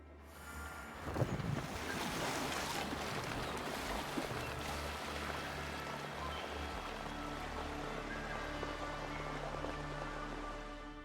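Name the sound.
ship setting sail on the sea, from the video game Assassin's Creed Valhalla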